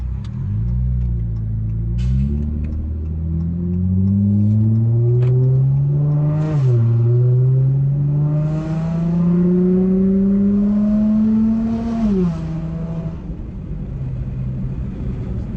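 Car fitted with an aftermarket pedal box pulling away and accelerating on a city street, engine rising steadily through the gears with one clear shift dip, loud and continuous from inside the cabin with air conditioning blowing.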